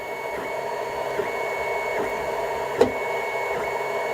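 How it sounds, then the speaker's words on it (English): A Longer Cube2 3D printer runs steadily, its stepper motors giving off a constant whine with faint periodic ticks and one sharper click. "it's kind of weird what that printer's doing right now."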